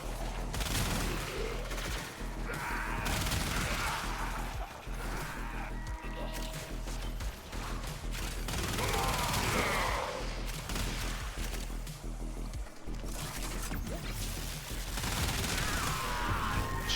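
Rapid bursts of gunfire in the video game Warframe, played during incursion missions, run almost continuously and loud, with whooshes and crashing impacts mixed in.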